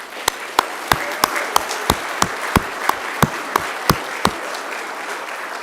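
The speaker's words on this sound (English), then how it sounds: "give yourselves a round of applause because you deserve it" Graduates at a Macquarie University graduation ceremony applaud themselves, a room-filling wash of clapping punctuated by loud, regularly spaced sharp claps close by, without speech.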